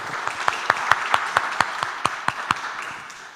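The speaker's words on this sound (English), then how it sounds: "give her a big round of applause" Audience applause at an academic symposium comes as evenly spaced, crisp claps in a steady rhythm over a soft wash of clapping, gradually fading toward the end.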